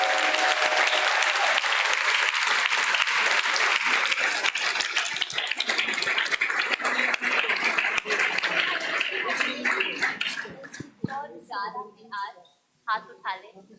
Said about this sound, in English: So a big round of applause again for all of them.